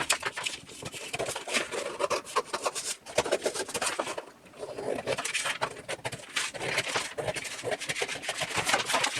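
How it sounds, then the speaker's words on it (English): Scissors cut through Hyper D300 backpacking fabric in a quick, uneven run of crisp snipping and rasping strokes, close and moderately quiet, with a brief pause partway through. "I guess I'm going to use scissors for this."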